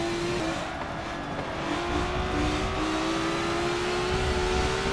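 Race cars in a racing video game at Monza, including a Ferrari, hold a steady, loud engine drone with a rising whine as they accelerate together, with no voices.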